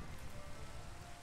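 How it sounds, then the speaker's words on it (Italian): Steady rain falling outdoors in Emilia-Romagna, Italy, a continuous soft broadband hiss of drops on surfaces, fairly faint and unbroken, with no voices. "Qui in Emilia Romagna continua a piovere"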